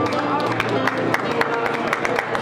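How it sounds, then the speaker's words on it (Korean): Applause from the audience at a Korean songwriters' awards ceremony as a new-artist prize is presented, a steady wash of clapping and crowd noise with faint cheering, fairly close and continuous throughout. "여러분 박수 한번 주시기 바랍니다"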